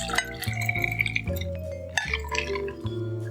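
A pink Cosmopolitan cocktail pours from a shaker through a strainer into a martini glass, a close trickle of liquid with light glassy clinks and a few drips.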